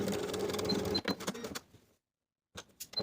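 A sewing machine stitches a flap on a pair of overalls in a quick close burst, stops, goes silent for a moment, then gives a few short clicks and whirs.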